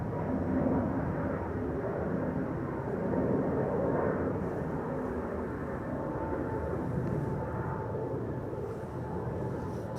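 An Airbus A321neo departing Amsterdam Schiphol sends a continuous low rumbling roar that swells slightly and then evens out, steady and fairly distant.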